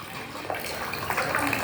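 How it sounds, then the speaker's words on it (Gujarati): Water poured from a glass through a mesh into another glass, a soft, steady splashing trickle running for a moment, fairly quiet and close. "આ જાળી સોંસરું આમાં પાણી રેડીએ"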